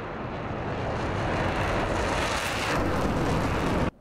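A fighter jet roars in a combat flight simulator game just after takeoff, a loud, dense, unbroken engine rush filling the whole clip before cutting off abruptly near the end.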